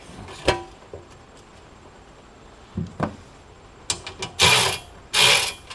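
A ratchet tightening bolts during assembly of a Harbor Freight welding cart, isolated clicks early on, then a burst of rapid ratcheting strokes near the end, loud and close.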